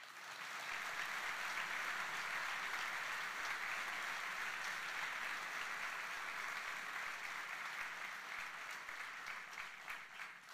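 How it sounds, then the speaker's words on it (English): Sustained applause from a congregation at a Baccalaureate Mass for a graduating class, steady dense clapping from many hands filling the whole stretch without a break, fading slightly toward the end. "How about a round of applause for all those who helped bring this together?"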